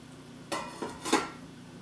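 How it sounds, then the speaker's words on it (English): A metal lid set back onto a stew pot of blanquette de veau, three quick clanks and rattles as it settles, close and fairly loud against a quiet room. "we'll just pop the lid back on and leave that for a further 20 minutes"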